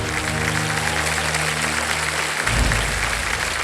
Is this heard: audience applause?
yes